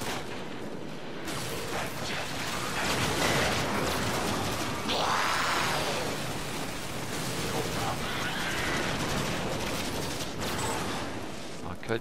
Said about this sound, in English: Keep shooting the wrong guys.